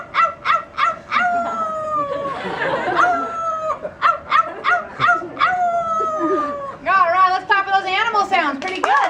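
A yellow-naped Amazon parrot imitates a coyote with a series of sharp yips and drawn-out howling wails, finishing in a rapid warbling yodel, close and continuous.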